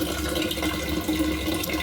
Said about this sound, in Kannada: ಇಲ್ಲಿಂದ ನೀರು ತುಂಬಿಸ್ಕೊಳ್ತಾ ಇದ್ದಾರೆ,